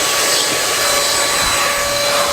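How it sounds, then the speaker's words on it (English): A small handheld vacuum cleaner runs steadily and loudly up close during post-trip house cleaning, a constant high-pitched whine and airy rush with no pauses. "You got this little vacuum right here."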